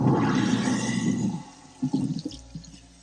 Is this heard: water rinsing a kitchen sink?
yes